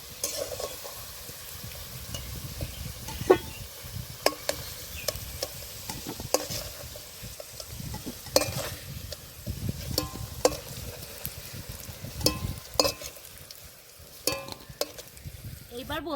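Potatoes fry in a pan with a soft continuous sizzle, broken by repeated scraping and stirring clinks of a utensil, close and fairly quiet.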